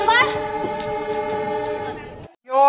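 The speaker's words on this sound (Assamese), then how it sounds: "ট্ৰেইনখনৰ মাতটো শুনিছোঁ" A train horn sounds in one long, sustained tonal blast, cuts off briefly, then starts again with a second blast.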